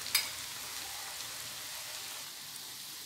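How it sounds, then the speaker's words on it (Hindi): Raw potato snacks deep-frying in hot oil over a high flame make a continuous hissing sizzle, with a brief sharp crackle at the start and then an even, dense bubbling that holds steady. "तो इनको हम अच्छे से फ्राई करेंगे। फ्लेम आपने हाई रखना है"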